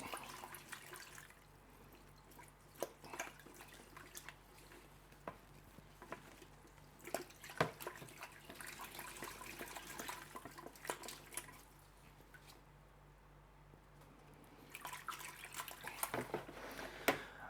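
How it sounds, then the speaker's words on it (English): Plant root ball swirled around in a bucket of water, soft sloshing and dripping splashes coming in irregular bursts, close and fairly quiet, with no talking. "just make sure all the roots are getting a nice wash, and just swirl it around a little bit"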